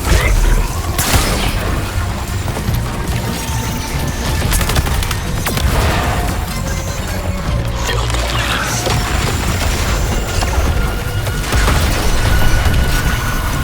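A sustained, loud energy beam fired by the Brainiac boss in the Suicide Squad game, a dense continuous roar with booming crashes and mechanical clatter running the whole time, with no voices over it.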